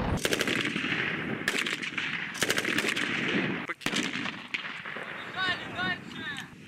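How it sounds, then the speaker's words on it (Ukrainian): Rapid machine-gun bursts and sharp gunshots crack across a military training obstacle course, repeated volleys with heavy reports and echoing booms, loud and close, with brief gaps between bursts and a whistling tone near the end. "Адже дим, постріли та вибухи роблять атмосферу максимально наближену до бойової."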